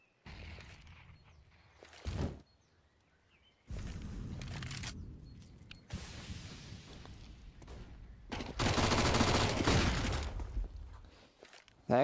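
MAC-10 submachine gun fire in a Counter-Strike match, heard as several separate bursts of rapid gunshots of varying loudness with quieter gaps between them, ending in a long, dense, loud volley.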